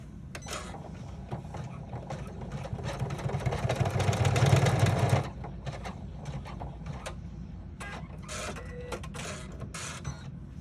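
A Janome 500 sewing and embroidery machine top-stitches a vintage-style bag: a fast mechanical whir builds and runs for a few seconds, then gives way to scattered clicks and taps of the mechanism.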